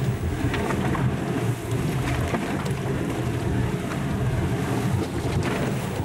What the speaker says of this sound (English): the geysers spew out their hot contents into the icy air